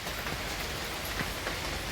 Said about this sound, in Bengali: পুরো বৃষ্টি কমে গিয়ে আবার দেখো কি শুরু করেছে